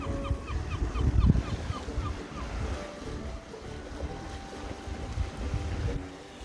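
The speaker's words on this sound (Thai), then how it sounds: "นอนเล่นฟังเสียงคลื่น" Sea waves wash steadily onto a beach, a soft continuous surf with low rumbling swells and some wind buffeting the microphone.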